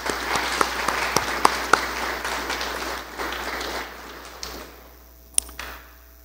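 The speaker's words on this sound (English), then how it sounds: "A round of applause, please." Scattered applause at a high school virtual commencement. Separate sharp claps ring out over a soft patter that thins and fades within a few seconds.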